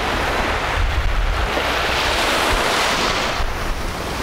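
Sea waves at a beach in Anapa wash and break in a steady roar, with gusts of wind buffeting the microphone and a brief dip in the surf noise toward the end.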